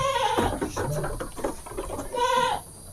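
A lactating goat bleats twice, near and clear, with a long wavering call at the start and another near the end, separated by softer shuffling and patter.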